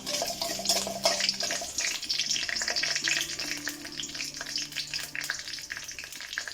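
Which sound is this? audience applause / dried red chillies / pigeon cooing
dried red chillies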